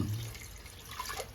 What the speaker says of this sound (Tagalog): Mga kalahating pitchel, lagyan natin ng tubig para pinakuluan.